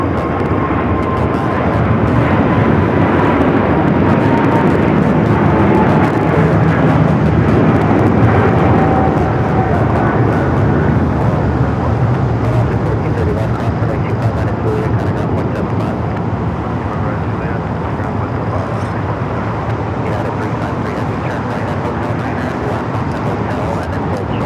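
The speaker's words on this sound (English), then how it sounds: "Air New Zealand, Flight 3, heading back to Auckland" Air New Zealand jet at LAX airport, Flight 3 bound for Auckland, a loud, continuous broadband engine roar that holds steady for the whole stretch, with faint traffic noise and occasional voices beneath it.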